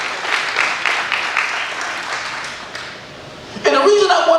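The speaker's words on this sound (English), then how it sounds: "Y'all give y'all hands a round of applause" Audience applause at a motivational talk: a steady wash of clapping that swells and fades, then a burst of louder cheering and whooping near the end, with voices mixed in.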